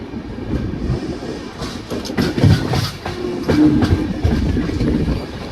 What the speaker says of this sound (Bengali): আবার আমাদের ট্রেন এখান থেকে ছেড়ে দিল দেরাদুনের উদ্দেশ্যে